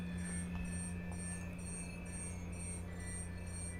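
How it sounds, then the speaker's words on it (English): Designed mystical forest ambience of steady humming environmental tones, a constant low drone under a high pulsing tone that repeats in regular beats throughout. "Here is a sound of the forest, a possible sound for the forest."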